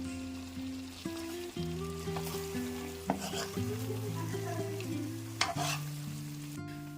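A spoon stirs chicken ghee roast in a pan with curry leaves fried in ghee. The steady sizzle and scraping stir run continuously under soft background music, with an occasional sharper clink of utensil on pan.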